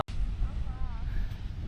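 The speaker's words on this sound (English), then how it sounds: "it's super windy. Guess we're gonna test the wind noise reduction on this camera right now." Strong outdoor wind buffets the microphone of a DJI Osmo Action 4 action camera, a loud continuous low rumble with gusty surges, while a voice talks faintly over it.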